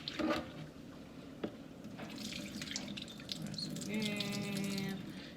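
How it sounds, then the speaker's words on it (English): Chicken livers are rinsed under a running kitchen tap. Water streams steadily and close by into a sink, with splashing and squishy handling, and a brief ringing tone toward the end. "So We're rinsing. Rinse again."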